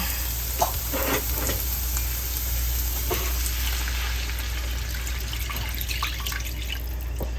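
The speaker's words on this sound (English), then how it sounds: "I'm gonna throw in the water now" Water is poured into a hot pan of onions and seasoning: steady loud sizzling and hissing, with scattered crackles and drips throughout, no voices.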